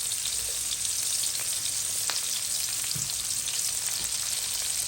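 Onion and green chili fry in hot oil, a steady, dense sizzle that crackles continuously at close range for the whole stretch, with a few brief pops and a faint stir rising out of the hiss.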